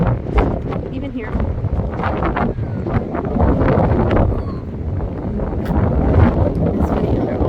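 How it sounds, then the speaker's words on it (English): Strong wind on the Woolgoolga headland in Australia buffets the microphone with a loud, continuous broadband roar that swells and eases without a break. "it was windy, like the birds were blowing away windy"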